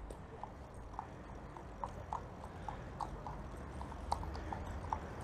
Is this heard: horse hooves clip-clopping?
yes